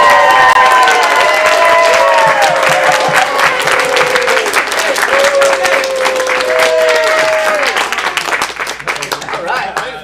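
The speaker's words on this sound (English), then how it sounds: "Let's give everybody a cool little big huge round of applause" Applause from the audience at an acting studio's script showcase swells loud and continuous, clapping mixed with some crowd noise and a voice or two speaking over it before it tapers off.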